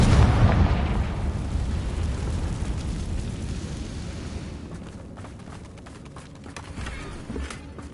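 A Confringo spell in the Hogwarts video game sets off a loud, close explosion, a sharp burst at the start followed by a long rumbling decay that fades over several seconds.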